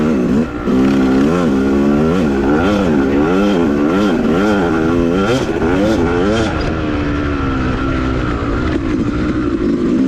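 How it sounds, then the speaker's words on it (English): A dirt bike engine on a groomed OHV trail, revving hard with repeated rising and falling throttle blips, then settling into a steady loud drone, close and continuous with no talking. "you blast the gas, you get your RPMs up"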